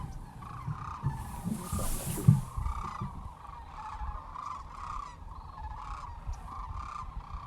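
Sandhill cranes call repeatedly in rolling, trumpeting rattles, steady and moderately loud at a distance, over a low outdoor rumble.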